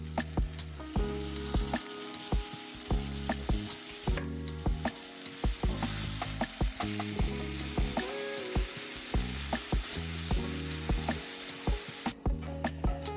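A vegan steak, seasoned and splashed with vegan Worcestershire, sizzling in a hot pan after being flipped: a steady close frying hiss with regular sharp crackles and pops, and no talking.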